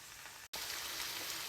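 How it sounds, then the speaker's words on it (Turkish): An eggplant dish fries in a pan in a home kitchen, giving a dense close sizzle that breaks off for a split second and then resumes just as strongly, with no talking. "gördüğünüz gibi fışır fışır kaynıyor benim yemeğim"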